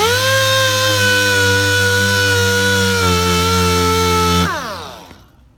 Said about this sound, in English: You want to sand just where the damage is.